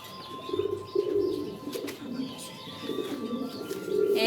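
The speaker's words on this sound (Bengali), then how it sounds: "এই হলো আমার খুব শখের কবুতর লক্ষা কবুতর।" Lakkha pigeons coo in low, repeated throaty rolls, a steady run of soft burbling calls close by, with faint chirps and a thin background tone.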